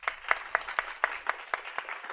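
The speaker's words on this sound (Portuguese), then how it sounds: "Quero muitas palmas para a doutora Kelly" Sparse, fairly faint clapping welcomes Dra. Kelly to the stage at a Portuguese-language event, a few distinct claps in a steady, even rhythm, roughly four per second, over a quiet hall.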